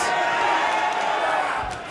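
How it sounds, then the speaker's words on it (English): Wrestling arena crowd roaring loudly and steadily in approval after a forearm strike during a pro wrestling match, a dense sustained cheer with whoops rising over the din. "And this crowd roaring with approval that Thatcher did indeed club him with that forearm one more time."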